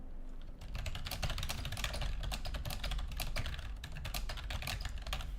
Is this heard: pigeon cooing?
no